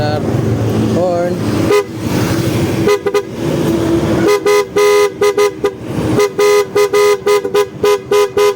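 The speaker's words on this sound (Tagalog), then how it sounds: "Horn." A loud aftermarket horn on a Honda Click 150 scooter blares in repeated close honks, a long blast followed by a quick rhythmic series of short toots, with someone talking briefly before it starts.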